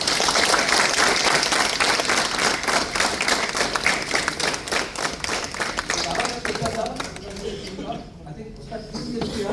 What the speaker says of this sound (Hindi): जिन्होंने स्किट बनाया सबके लिए बिग हैंड, तालियां सबके लिए।